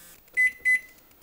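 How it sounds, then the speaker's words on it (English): Two short electronic beeps from a 1200 watt microwave oven being set to heat a Stouffer's lasagna, closely spaced, clear and near, with a faint room hiss around them. "I'm going to put it in the microwave 4 minutes."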